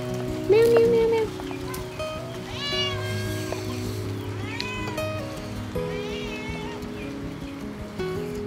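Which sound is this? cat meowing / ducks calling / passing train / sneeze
cat meowing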